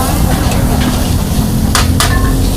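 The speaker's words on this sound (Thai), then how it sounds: "นี่ผัดสปาเกตตีผัดซอสครับ" Spaghetti is stir-fried with sauce in a pan at a busy stall, giving a loud continuous sizzle with a few sharp metallic scrapes of utensil against pan near the end.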